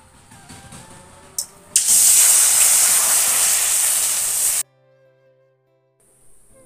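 Water poured into a hot wok on a clay stove for mutton, a loud steady hiss and spray of steam bursting up for a few seconds, then cutting off abruptly to near silence.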